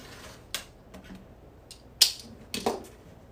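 A rotary cutter trimming the edges of a quilt block on a cutting mat, a few sharp scraping cuts and clicks spaced irregularly, close and alone without talk.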